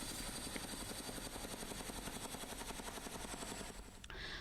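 An army helicopter flying, its rotor chop beating in a loud, fast, steady rhythm that cuts off abruptly near the end, with no talk.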